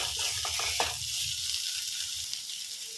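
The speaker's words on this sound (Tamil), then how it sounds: "இது எல்லாமே சீக்கிரம் வதங்கி வரதுக்காக கொஞ்சமாக உப்பும் சேர்த்துட்டு ஒரு 10 நிமிஷம் போல் நல்லா வதக்கி கொடுத்துக்கலாங்க." Onions and tomatoes sauté with a little salt in a pan for mushroom gravy, giving a steady, close sizzle with a few soft stirring scrapes early on and no talking.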